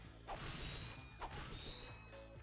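In the Ratchet and Clank video game, crates break with two sharp crashing smashes, each followed by metallic mechanical clinks as bolts are collected, over a quiet game background with no talk.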